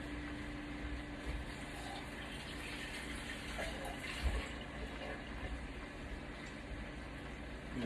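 Tap water pouring into an emptied food can at a kitchen sink, a steady low rushing fill lasting several seconds, fairly quiet with no voices.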